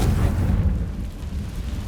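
A Confringo fire spell explodes in the Hogwarts Legacy video game, a loud, deep booming blast with rumbling low end that sustains for about two seconds, with no talk over it.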